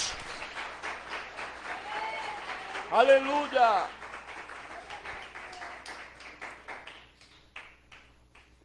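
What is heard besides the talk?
congregation applauding in church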